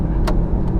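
A 2015 BMW i8 hybrid supercar in sport mode, its engine a low, close, steady rumble from inside the cabin during a brief moment of driving.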